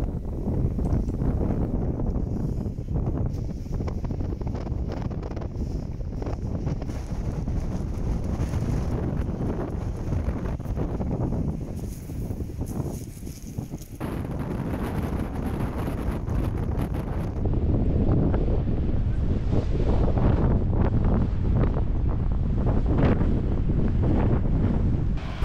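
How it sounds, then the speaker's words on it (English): Strong wind at Reynisfjara Beach, Iceland, buffeting the microphone in continuous heavy gusts with the rush of surf mixed in and a brief lull midway. "It was extremely windy on the day I visited, so I didn't stick around for too long."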